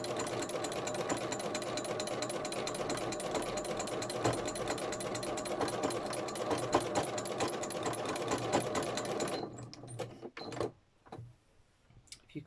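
A home sewing machine stitches cream thread on a light fabric journal cover, a fast steady mechanical whirring that runs continuously, then stops and gives way to a few faint clicks and handling noises.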